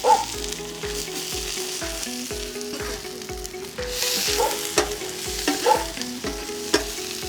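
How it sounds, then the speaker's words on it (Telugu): Finely chopped onions fry in pure ghee for a mutton tawa fry, giving a steady loud sizzle with regular scraping stirs of a spoon against the pan and no voices. "ఇదే నెయ్యిలోకి మనం చిన్న ముక్కలుగా తరిగిన ఉల్లిపాయలు యాడ్ చేద్దాం"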